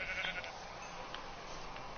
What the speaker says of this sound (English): all these sheep over here are getting on my nerves